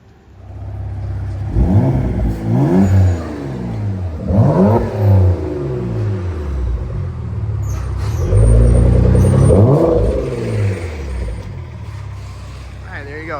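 A 2017 Porsche Macan S with a Soul performance exhaust revs repeatedly. Its deep engine note climbs and falls in loud surges up close, building to a longer, heavier rev near the end.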